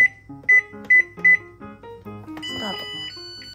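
Three short electronic beeps in quick succession from a rice cooker's quick-cook button, then a melodic chime plays under background voices and clatter.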